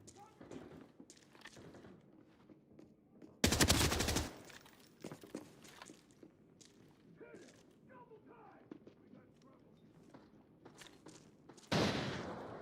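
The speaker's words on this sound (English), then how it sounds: "It's crazy how the gunfire is so muffled, but I can hear the pins of grenades being pulled." Muffled video game gunfire comes as two loud bursts of automatic fire separated by quieter scattered shots, clicks and thuds. People talk faintly in between.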